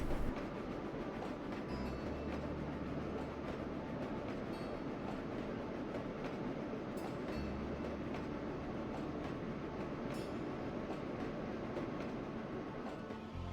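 Model goods train running on a branch line, carrying treated steel toward a shipyard, produces a faint continuous rolling rumble with light rhythmic wheel clicks throughout and no voices.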